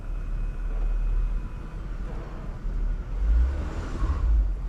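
An off-road vehicle reverses on a snowy winter trail, its engine a low, steady rumble that swells slightly near the end, fairly faint and with no talking.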